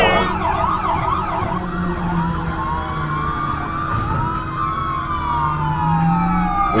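Wailing police car siren in a staged scenario involving a police car explosion, loud and continuous with rising and falling sweeps and overlapping tones under steady road noise.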